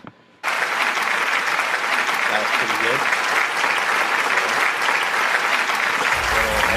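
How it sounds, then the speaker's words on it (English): A short pause gives way to a sudden burst of loud, sustained applause and cheering that runs unbroken to the end, with a few voices faintly mixed into the clapping. "I think that deserves a round of applause right there"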